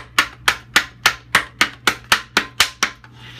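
Medicago seed pods are crushed in a contraption with eleven sharp, evenly spaced pounding knocks, each one loud and close and decaying quickly. A low steady hum runs underneath and no one speaks.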